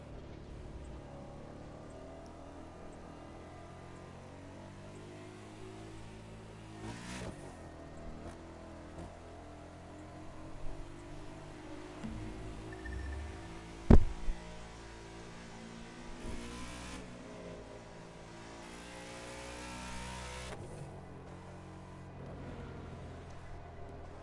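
Several sports cars, including Porsche, Mercedes and BMW models, driving in the racing video game The Crew 2, a faint continuous engine drone with shifting revs and occasional louder bumps and whooshes.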